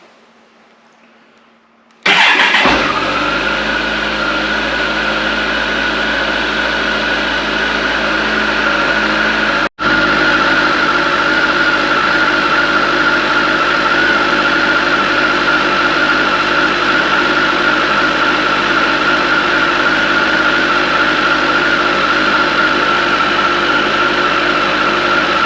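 A Kawasaki ZZR1400 motorcycle engine, started cold at about 4 degrees, fires up abruptly after a short quiet lead-in, then settles into a loud, steady idle that holds for over twenty seconds with one very brief dropout.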